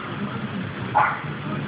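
A dog tied to a post gives a single short, faint bark about midway, set against a steady muffled background hiss.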